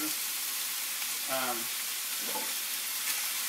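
Tofu sizzles and fries in a pan as it is gently stirred for ma po tofu, a steady close crackle with a brief tonal clink or scrape in the middle.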